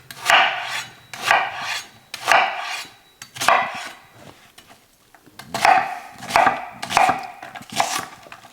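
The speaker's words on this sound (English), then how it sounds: "I'm just going to chop up an onion" A knife chops an onion on a board in a kitchen, with a series of close, rhythmic scraping and cutting strokes, a short pause partway through, then more quick chops.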